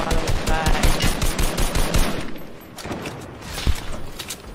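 Rapid automatic gunfire in the video game Fortnite, with dense bursts of quick shots rattling loud and close, a short pause, then more scattered firing.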